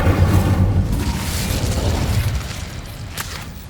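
Incendio fire spell cast in Hogwarts Legacy, a loud booming burst of flame that rolls into a sustained whooshing roar and gradually fades, with a soft crackle near the end.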